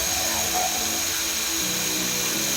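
Power mixer churning two-part epoxy resin, a continuous close whirring drone with a shifting pitch that runs throughout.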